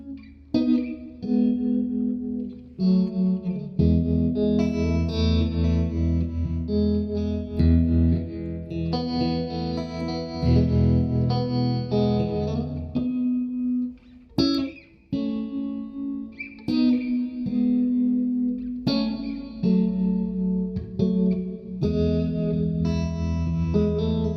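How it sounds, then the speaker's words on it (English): Electric guitar played through Bayang reverb and tremolo pedals: chords and single notes ring out with washy reverb tails and a pulsing, wavering volume, loud and alone, with brief pauses between phrases. "now we'll check out reverb and tremolo with the two Bayang pedals"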